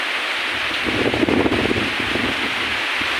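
Strong wind during a rainstorm roars steadily across the microphone, with a louder gusty surge in the middle before settling back to a constant rush.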